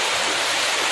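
Heavy rain falls during a cycle journey from Nalbari toward Kedarnath, a loud, dense, unbroken hiss very close by with no voices.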